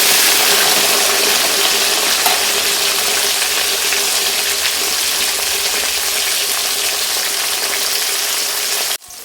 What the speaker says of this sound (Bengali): আর এখন আমি এই তেলেই দিয়ে দিচ্ছি কেটে রাখা বেগুন